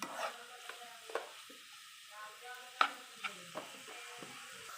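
A spoon stirs kalmav in a pan after salt is added, with soft scraping strokes over a faint sizzle, quiet and close, one sharper knock near the middle.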